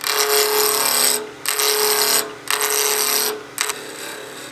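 Wood lathe spinning a whistle blank while a spindle roughing gouge takes small bites from square-cornered stock, a bright, loud ringing cut that comes in bursts, with three brief pauses between passes.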